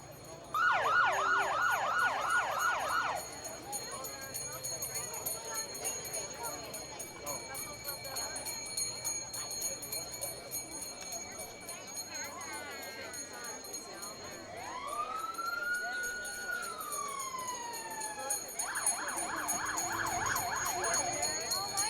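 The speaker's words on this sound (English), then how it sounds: "we see the police coming now. The lights are on. The siren's going." A police siren wails in loud bursts at the start and end, with shorter yelps between, over a murmuring outdoor crowd at the 2012 Fiesta Day Parade.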